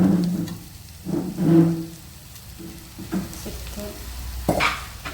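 Chicken pieces sizzling in a hot pan while being stirred, with intermittent scraping strokes and soft bursts of frying between them, close and clear with no talking.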